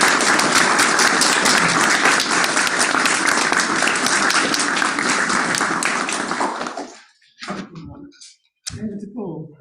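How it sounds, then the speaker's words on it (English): An audience applauds after a talk at an event on tackling climate change in the courts, dense loud clapping for about seven seconds that fades out, followed by a brief voice. "Can we just give a round of applause?"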